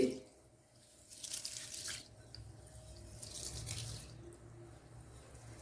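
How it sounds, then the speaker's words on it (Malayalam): Water splashes and swishes in short bursts as horse gram is stirred and rinsed by hand, close up with a faint background hum. "ഞാനിപ്പോൾ ഒന്ന് രണ്ട് വെള്ളം കഴുകി"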